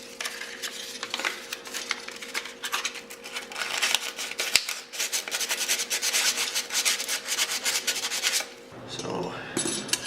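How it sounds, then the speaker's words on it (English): An edge being roughed up with 100 grit sandpaper gives a close, steady scratchy rubbing in quick strokes, pausing briefly near the end before a short final burst. "get some 100 grit sandpaper and just rough this edge up so that the epoxy has something to stick to"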